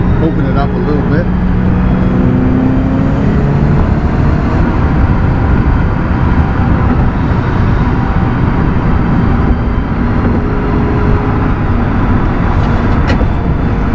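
A Scion FR-S fitted with an electric supercharger pulls hard at full throttle on a faster road, its engine note climbing and then holding as a loud, sustained roar amid surrounding traffic.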